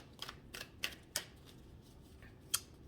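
Tarot cards are shuffled in soft, quiet bursts, a handful of brief papery riffles and taps spaced irregularly with no voices over them.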